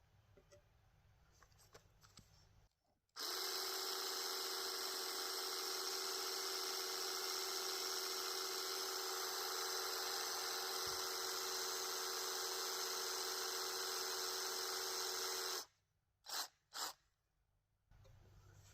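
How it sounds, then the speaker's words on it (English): A Sawzall reciprocating saw pressed against a concrete-filled sonotube to vibrate the fresh pour, a loud steady mechanical buzz with a whining tone that runs unbroken for about twelve seconds, then cuts off and is followed by a few short bursts. "So I'm using a Sawzall as a vibrator."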